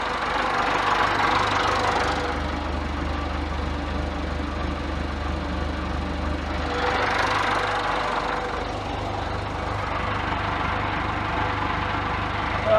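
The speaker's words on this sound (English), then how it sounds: "So I can get the tractor in a little bit more." A tractor engine running as it moves slowly in alongside a truck cab being installed, a steady mid-pitched knocking drone at moderate distance with two brief swells in revving and no talk.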